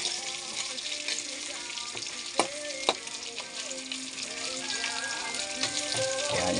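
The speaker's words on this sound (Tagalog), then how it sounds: "Magluto tayo ng pansit." Pansit noodles with chicken cooking in a pan, a steady loud sizzle and frying hiss throughout, with a few sharp clinks of a utensil against the pan partway through.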